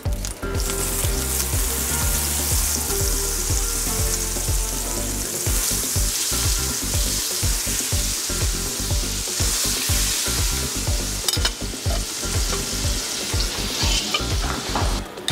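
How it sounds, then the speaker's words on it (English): Yellowtail snapper fries in a skillet of olive oil and butter, a loud, dense sizzle with rapid popping and spattering that crackles throughout. "Let's French fry the yellowtail snapper"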